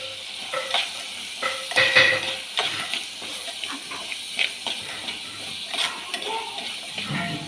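Curry leaves sautéing in a pan, a steady close sizzle broken by irregular scrapes and light knocks of a spoon stirring, moderately loud throughout.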